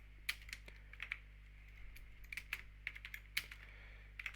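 Java code is typed on a computer keyboard, with scattered bursts of sharp, close keystrokes separated by short pauses over a faint low hum and no speech.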